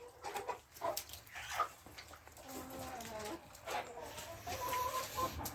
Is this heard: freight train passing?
no